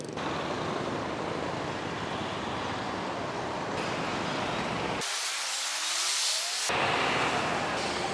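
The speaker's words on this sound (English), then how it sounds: "See, lots of traffic." Road traffic on a busy roundabout-style junction in Phuket during high season, a steady broadband wash of passing cars and engines, close and continuous, with a brief drop in low rumble midway.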